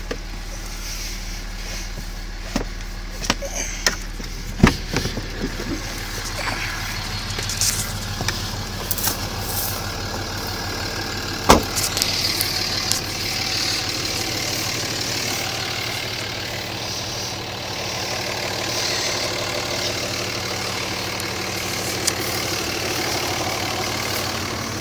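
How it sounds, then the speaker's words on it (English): A big new 3500 pickup truck idling nearby, a steady low engine rumble running throughout, with scattered clicks and bumps over it and no talking. "It's my uncle's nice big new truck, big shiny 3500."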